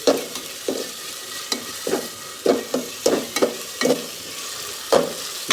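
A spatula stirs garlic and onion paste in a frying pan, scraping in repeated close strokes roughly every half second over a steady soft sizzle, with no talking.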